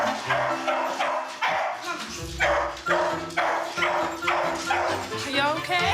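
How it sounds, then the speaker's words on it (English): A two-year-old Beagle Pug cross dog barks repeatedly in loud, close, rhythmic bursts, with a few yips between barks and people speaking in the background. "her 2-year-old Beagle Pug cross, Monty."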